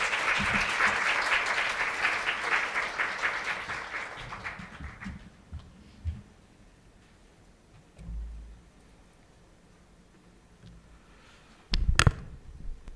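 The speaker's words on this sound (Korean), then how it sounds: "그럼 큰 박수로 모셔보도록 하겠습니다" An audience at a medical lecture hall applauds to welcome a biochemistry professor, the clapping loud at first and tapering off after about four seconds, followed by quiet room noise and a few thumps.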